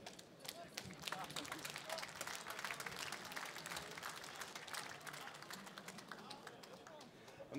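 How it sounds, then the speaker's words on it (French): An audience applauds Christophe at a fishing championship awards ceremony, dense sustained clapping from a crowd, moderately distant and steady throughout. "On applaudit Christophe qui vient de reprendre la gestion de ce championnat"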